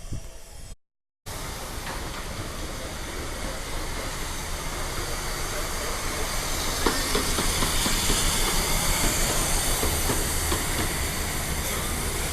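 A long passenger train with a great many coaches rolls past in a continuous loud rumble and hiss, with faint rhythmic rail clatter. It swells gradually as it continues, and there is a brief dropout near the start.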